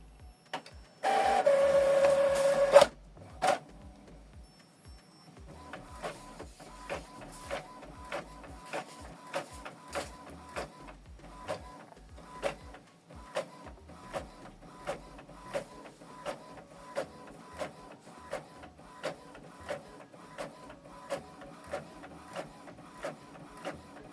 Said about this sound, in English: Printing reverse side of the document,